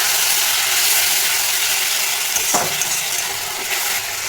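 Fried onions and a chili-ginger paste sizzle steadily in hot oil for a doi katla curry, a continuous close hiss with a brief stirring scrape partway through and no talk.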